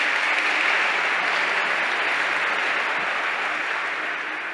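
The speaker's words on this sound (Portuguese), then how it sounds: "Uma salva de palmas à igreja católica." A church congregation applauds during a Catholic sermon, a continuous, even roar of many hands clapping at once that stays loud throughout and eases only slightly toward the end.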